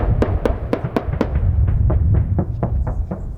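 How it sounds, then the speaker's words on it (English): Rapid series of heavy booming shots from a 35mm cannon on an AC-130J gunship, a dozen or so in quick succession, sounding somewhat distant and echoing. "We witnessed gunfire from a 35mm cannon."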